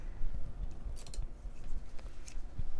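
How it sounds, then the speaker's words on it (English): Fabric scissors cut a single layer of fabric along marked lines for bias strips, giving a few crisp snips and clicks close up over a low rustling background. "I'm going to take my scissors and I'm going to start to cut, and you're just cutting directly on top of the lines, one layer of fabric at a time"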